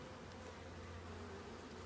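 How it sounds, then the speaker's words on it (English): Honeybees buzz around an open hive during an apiary inspection in Ballachulish, a soft continuous droning hum, faint and steady throughout with no voices. "Not happy bees."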